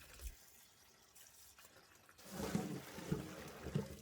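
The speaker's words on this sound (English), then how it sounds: "Transfer the stingray out and discard all the water." Water sloshes and pours out of a basin used to wash stingray in a few splashy bursts after a quiet start, fairly close and moderately loud.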